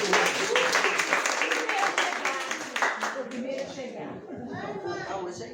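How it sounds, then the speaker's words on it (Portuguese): Audience applause at a poets' and troubadours' literary academy gathering, steady clapping that thins out after a few seconds into chatter and voices. "Uma salva de palmas para Jacimar"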